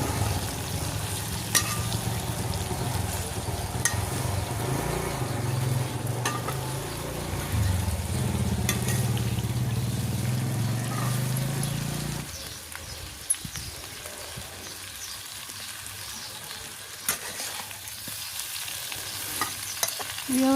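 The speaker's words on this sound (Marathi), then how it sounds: "आता या एवढ्या तेलामध्ये ही भेंडी छान अशी तळून घेतलेली आहे। व्यवस्थित अशी हलवून शिजली की ती आणखीन कमी होईल।" Okra frying in oil over a wood-fired clay stove, stirred continuously with loud scraping and sizzling for about twelve seconds, then quieter sizzle with occasional scrapes.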